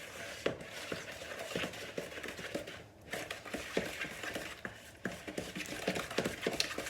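Banana bread batter being mixed by hand after eggs and sugar go in, with repeated scraping and clinking strokes of a utensil against a bowl at a steady rhythm, close and moderately loud, no talking.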